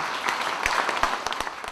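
An audience welcoming a lecturer at a Buddhist monk's talk in Okcheon County breaks into applause, a dense wash of many hands clapping with a few sharper individual claps standing out, close and continuous, without speech.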